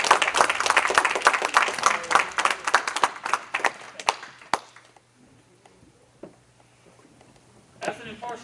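A burst of lively clapping from a small group fades out after a few seconds, leaving quiet room tone and a brief voice at the end.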